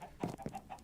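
Chickens in a video game cluck in a few short, quiet bursts one after another, close by, with no talking over them.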